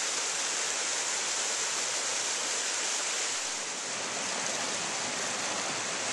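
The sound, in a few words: flowing stream at the headwaters of Hunting Creek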